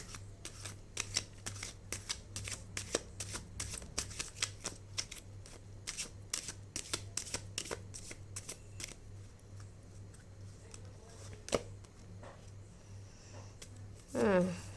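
Tarot cards are shuffled and drawn during a reading, making a long run of quick, crisp card snaps and flicks close by over a steady low hum, ending with a brief rustle.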